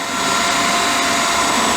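A drill boring holes in the bottom of a DIY Bakki shower filter for a koi pond, a loud, steady, close whirring with no talk.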